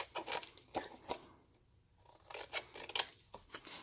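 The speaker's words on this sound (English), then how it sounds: "So trim all 4 corners at a 45-degree angle." Scissors snip the corners of book cloth while a French link stitch journal is being covered: quiet, close, crisp cuts in two short clusters separated by a brief pause.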